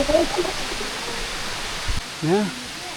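Steady rushing water fills the clip, a broad continuous roar of a nearby waterfall at Tat Kuang Si, Luang Prabang, Laos, with a person talking briefly over it.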